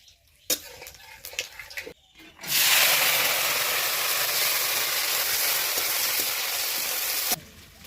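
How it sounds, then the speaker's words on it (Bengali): Dried red chillies, bay leaves, panch phoron and whole garam masala hit hot oil for a spicy duck curry, bursting into a loud, steady sizzle that holds for several seconds after a few clinks and then cuts off abruptly. "তেল গরম হয়ে গেছে বন্ধুরা, ফোড়ন দেবো।"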